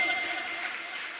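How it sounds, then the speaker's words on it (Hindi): Applause from the audience at a Jain sermon, honouring a donation, comes as a dense, even wash of clapping at moderate level, with a faint voice over it. "तालियां अच्छे से तो बजाओ एक बार जोर"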